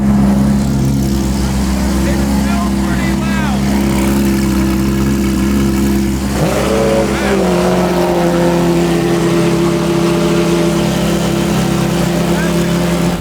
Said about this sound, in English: Let's get a little bit of cold start.